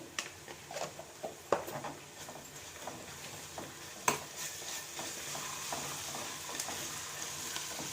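Ginger garlic paste frying in a pan for Hyderabadi bagara rice, a soft steady sizzle broken by scattered scrapes and clinks of a spoon stirring against the pan.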